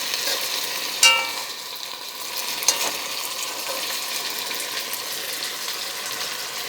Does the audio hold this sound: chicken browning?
yes